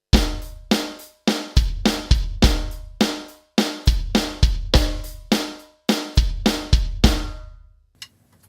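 A dry drum kit beat with punchy low bass drum hits and snappy strikes in a steady driving rhythm, close and loud, ending with one last soft hit.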